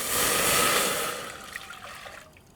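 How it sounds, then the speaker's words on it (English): Cider vinegar pours with a soft, steady liquid rush that fades into faint trickles and drips over about two seconds, quiet and close. "I have here 2 cups of cider vinegar"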